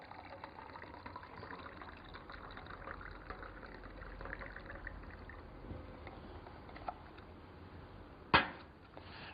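Hot water pours from a thermos into a cup, a faint steady liquid trickle that runs for several seconds and ends with a sharp clink near the end.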